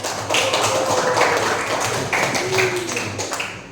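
A class of students claps hands together in a school lesson, a dense, even patter of many hands sustained throughout, fairly close and loud.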